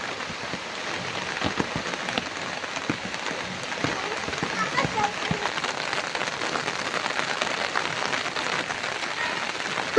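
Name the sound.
sudden rain falling outside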